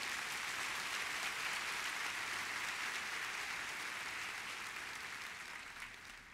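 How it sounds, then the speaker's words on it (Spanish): Congregation applause during a church service, a dense, continuous wash of many hands clapping at once, sustained and even before easing slightly toward the end, heard at a moderate distance with no voices. "¿Cuántos pueden darle un fuerte aplauso al Señor Jesús?"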